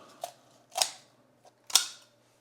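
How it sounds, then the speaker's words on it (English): Poultry scissors cut along a raw chicken's backbone for spatchcocking, giving three crisp, close snips with short pauses between them and a faint tick between the second and third. "we're gonna take a pair of poultry scissors here and just go along the guidelines"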